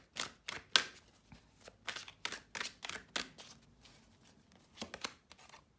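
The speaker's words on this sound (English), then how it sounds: "Let's shuffle this up." A deck of cards shuffled for a tarot-style reading, a quick run of crisp riffling snaps and soft slaps in uneven bursts, close up with no talking.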